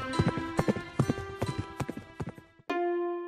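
Cartoon horse hooves clip-clop in a quick, uneven rhythm with sharp, bright knocks. A sustained whinny-like tone follows, loud and close, and no voice is heard.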